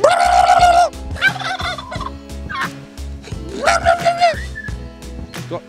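Turkeys gobble loudly and close by in a rural Greek village, two long rattling bursts with shorter calls between, recorded on a motorcycle road trip.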